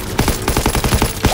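Loud, rapid machine gun fire from the World War II shooter Call of Duty WW2, with dense rattling bursts hammering at a steady rhythm for the whole moment.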